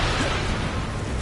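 Incendio fire spell cast in Hogwarts Legacy on PS5: a brief, dense whooshing burst of flame filling the whole moment, loud and close with no voice.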